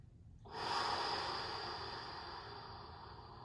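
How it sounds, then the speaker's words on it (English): Deep, drawn-out breath during a yoga session, a long airy exhale swelling in after a short quiet start and easing off gradually, heard close and alone. "Deep breath in. Deeper breath out."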